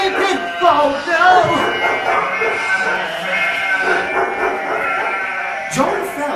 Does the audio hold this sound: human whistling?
no